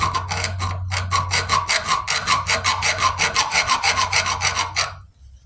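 A metal file cuts decorative file work into the spine of an unhardened knife in quick, even back-and-forth strokes, about four per second, close and loud, then stops abruptly.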